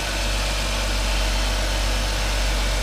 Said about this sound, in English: A 3-liter V6.